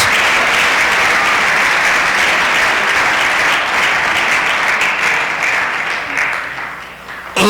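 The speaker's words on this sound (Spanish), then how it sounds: "Alguien puede darle un aplauso al Rey de la Gloria." A church congregation at a Sunday school service breaks into sustained, loud applause that fills the room evenly for several seconds before tapering slightly at the end.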